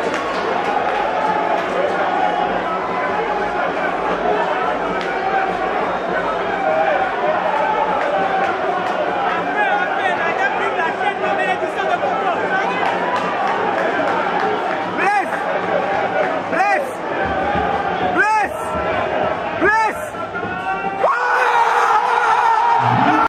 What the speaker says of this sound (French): Regardez tout le public en liesse là.